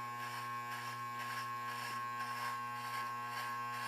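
Electric razor buzzing steadily as it scrapes through hair above the ear, a close, continuous hum with no talking.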